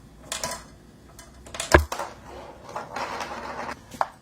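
A marble rolling and tapping across a homemade snare drum built from coasters and a box, with the rice removed, giving a few scattered dry clicks and rattles and one sharp louder hit in the middle, close and fairly quiet.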